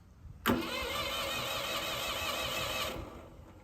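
A Ford 2600 tractor engine catches at once and settles into a steady, loud, close running drone for about two and a half seconds before it fades.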